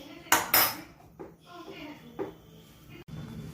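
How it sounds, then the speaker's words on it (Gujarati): A spoon clinks and scrapes in a pan while a millet flour and mixed greens ladoo mixture is worked, a few sharp knocks followed by softer stirring, close and moderately loud, with brief talk. "પછી તેને સ્પૂન વડે આપણે એને થોડું ચકા કરી નાખવાના છે"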